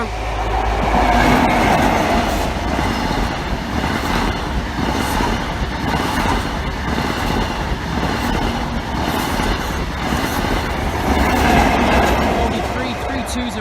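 A British Rail Class 43 diesel train, 43310, rumbles steadily past a level crossing, with a deep engine drone and rhythmic wheel clatter on the rails, sustained and fairly close.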